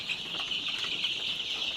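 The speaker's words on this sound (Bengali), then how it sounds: "এখানে 500 মুরগির বাচ্চা।" A dense, steady chorus of high chirping from a shed holding about 500 Sonali chicken chicks, with overlapping peeps running continuously throughout.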